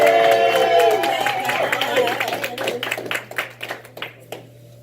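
A live crowd at an MLK celebration event applauds and cheers, the clapping thinning into scattered claps as it fades, with voices mixed in early on.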